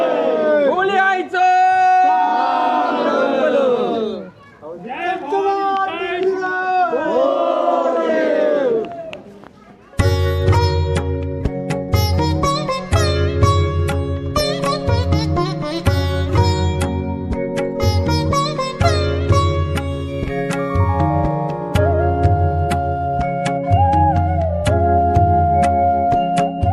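A crowd at a village Holi festival in Mahad loudly shouts and chants together for about ten seconds, then drums and band music take over and continue strongly to the end.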